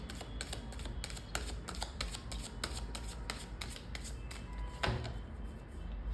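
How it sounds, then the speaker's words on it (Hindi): Tarot cards shuffled by hand in a steady run of soft, papery riffling flutters, close and fairly quiet, with a slightly firmer snap near the end and no voices. "पहले मैं आपका पर्सनल रीडिंग के लिए कार्ड्स पुल करूँगी और फिर करियर के लिए।"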